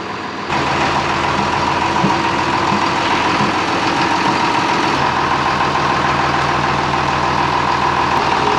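A truck engine idles on a farm during hay carting, a loud, steady low rumble that starts abruptly and holds evenly for several seconds with no talking.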